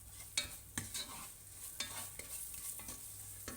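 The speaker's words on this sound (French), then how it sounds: "On mélange bien pour bien faire imprégner les oignons et l'ail" Onions and garlic being stirred with curry spices in a pan, a soft sizzle under a handful of quick scraping strokes of a spoon, close but quiet.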